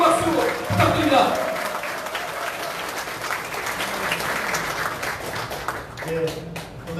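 An audience at a Liberty Korea Party provincial chair inauguration ceremony applauds warmly, a dense sustained wash of clapping from a large crowd that swells and lingers, with brief voices over the start.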